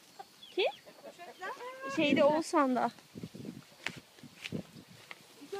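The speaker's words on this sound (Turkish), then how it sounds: "O horoz bak işte o horoz" A rooster crows nearby with a rising, strained call, mixed with other farm animal noises and people chatting over it, in a Turkish village.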